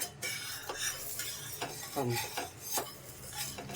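A capsicum, egg and tomato breakfast is flipped in a pan, giving a few soft scraping and clinking utensil strokes against the pan over a faint sizzle, quiet and close.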